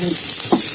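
Oysters sizzle in a hot wok with oil and a slice of ginger, a short bright crackle with a brief stir in the middle, no voices.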